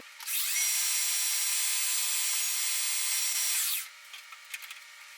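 A metal lathe cuts down a double-knurled part in one continuous high, hissing whine of about three and a half seconds that starts and stops abruptly, followed by a few faint clicks and taps in a quiet shop.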